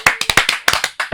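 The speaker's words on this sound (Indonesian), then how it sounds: "Tepuk tangan lu dong" A quick burst of about a dozen sharp hand claps in uneven rhythm from a few people, close and loud, lasting just over a second.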